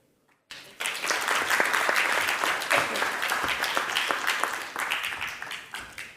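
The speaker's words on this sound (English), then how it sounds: "So let her give her a round of applause." A conference audience at a propulsion and energy session breaks into applause after a brief silence, a dense steady clatter of many hands that holds and then begins to thin out.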